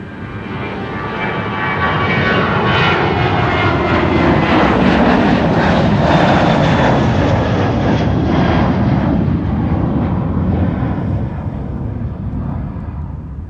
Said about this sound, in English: Georgian Airways flight 9652 to Tbilisi in Georgia.